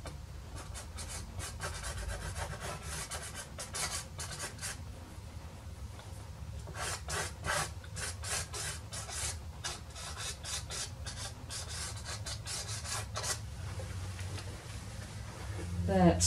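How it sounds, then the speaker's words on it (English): Pastel stick scraped across paper in a darker brown, giving repeated dry rasping strokes in bursts, close and fairly quiet over a low background hum. "I'm just using a darker brown sort of colour and then scraping it across to leave some of the others coming through"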